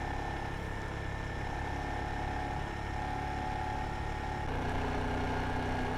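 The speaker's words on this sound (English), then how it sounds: "the Guzzi's large amount of torque propels itself rather quickly from 20 to 80 miles per hour" Moto Guzzi Griso motorcycle engine running at a steady low drone, its pitch stepping up slightly toward the end, heard alone and fairly close.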